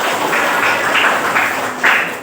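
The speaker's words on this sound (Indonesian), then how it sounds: "Oke, tepuk tangan dulu kita." Students in a junior high coding class clap together in a short, brisk burst of applause indoors, with a few louder claps near the end.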